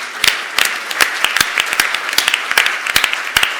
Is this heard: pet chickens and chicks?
no